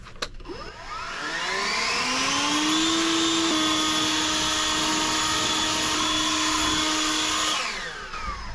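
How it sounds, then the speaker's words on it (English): A leaf blower revs up and blows loose rocks clean beside a freshly mulched area, rising from a brief clatter into a loud, steady whining roar that holds for several seconds before winding down. "Let's take the blower and we'll blow those rocks clean, see if it cleans them up."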